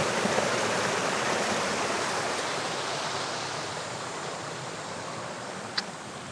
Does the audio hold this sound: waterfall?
yes